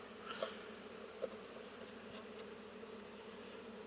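Honeybees hum in a steady, faint continuous buzz while a hive is being moved, with a couple of soft knocks early on.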